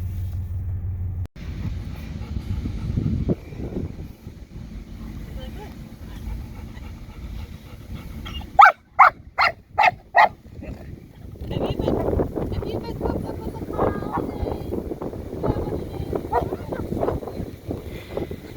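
A dog barks in a quick burst of about five sharp yelps inside a rumbling car while riding, followed by whining and panting over the road noise.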